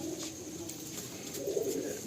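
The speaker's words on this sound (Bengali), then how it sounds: "দেখুন ব্লু পায়রা" Cooing from a blue pigeon at a Ranihati loft, soft low warbling calls that swell near the end, heard alone against a faint steady hiss.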